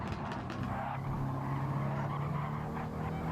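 A race car in a racing video game scrapes and slides along the wall during a stock-car series race, its engine droning loud and steady throughout with a rough grinding edge.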